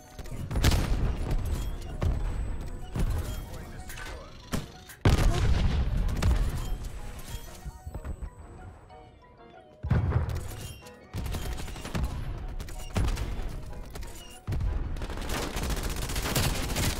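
A PPSh-41 submachine gun fires in Call of Duty Black Ops Cold War, in long loud automatic bursts broken by brief pauses, with heavy booming shots close up and no talk over them.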